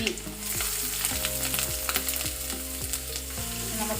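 Garlic and ginger frying in hot coconut oil after mustard seeds have popped, a steady close sizzle with a few clinks and scrapes of a utensil, no voices.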